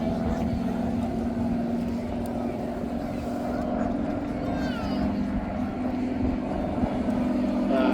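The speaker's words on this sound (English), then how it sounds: "making an immediate presence with that Pratt & Whitney R1340 Wasp radial engine with 600 horsepower" An aircraft powered by a 600-horsepower Pratt & Whitney R1340 Wasp radial engine flies past at a seaside airshow, its steady throbbing drone filling the air, with faint voices in the background.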